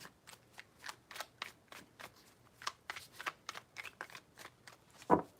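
A tarot deck shuffled by hand in a steady run of quiet card slaps and flicks, close and soft, ending in one sharper snap.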